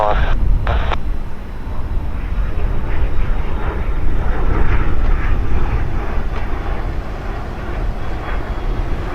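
Airplane taking off from Portland Airport, a steady, loud engine roar that stays up for the whole stretch, with air traffic control radio talk faintly over it.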